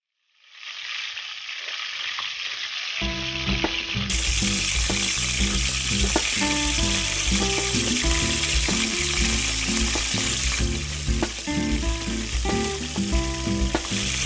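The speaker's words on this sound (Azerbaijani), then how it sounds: "İndi isə artıq ətimiz tavada qovrulur." Meat frying in a pan fills the air with a dense, loud, continuous sizzle after a short quiet start, with occasional stirring and faint watery crackle and no talk.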